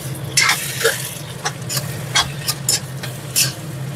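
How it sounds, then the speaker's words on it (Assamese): Whole cumin, coriander and Kashmiri chili going into mutton frying in a pot for curry, giving a steady sizzle with scattered stirring scrapes and light clinks, close and alone. "মছলা মানে জিৰা, ধনিয়া আৰু অকণমান কাশ্মীৰী মিৰ্চ দি দিছোঁ"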